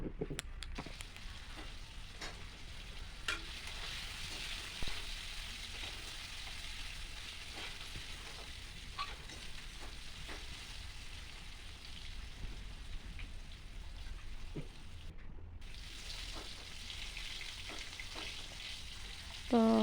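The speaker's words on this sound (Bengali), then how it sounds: "তারপরে আলুগুলো লাল লাল করে ভেজে নেব" Potatoes dusted with turmeric fry steadily in hot oil, a dense, even crackle and hiss running throughout with occasional louder pops and stirring clinks.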